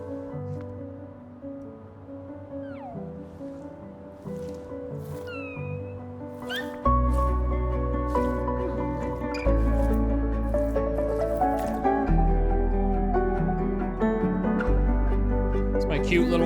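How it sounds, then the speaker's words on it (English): In the Jusant climbing game, the small watery Ballast blob creature gives squishy, chirping little calls and drips over calm, sustained music, each one short and delicate, appearing several times throughout. "It's my cute little water blob."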